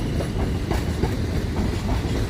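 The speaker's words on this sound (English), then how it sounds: "coming in now is a London Northwestern Railway Class 730, pair of Class 730" A pair of London Northwestern Railway Class 730 trains roll into Crewe station on the West Coast Main Line, a loud, continuous close rumble with wheel clatter and no voices.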